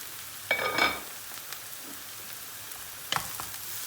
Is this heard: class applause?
no